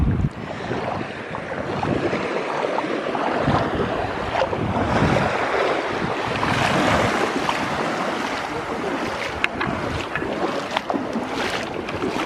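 Surf along the Gulf of Mexico shore at a Southwest Florida state park beach, a steady loud wash of waves mixed with heavy wind buffeting the microphone, with no clear pauses throughout.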